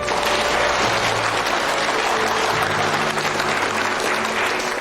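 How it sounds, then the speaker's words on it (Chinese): Sustained applause fills a courtroom, a dense, even wash of clapping from many hands at steady loudness throughout, with a low steady hum beneath and no speech. "先别鼓掌"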